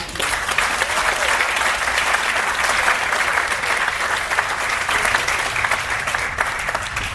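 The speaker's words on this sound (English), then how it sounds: "let's give another round of applause to Odie and Bob." A room at a leadership awards celebration fills with loud, sustained applause for Odie and Bob, a steady even roar of clapping from start to finish with no talking.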